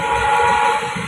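Kanchankanya Express running on the rails, a steady loud rolling rumble with broadband rail noise and a constant high whine, no voices.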